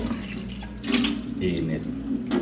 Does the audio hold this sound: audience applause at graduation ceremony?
no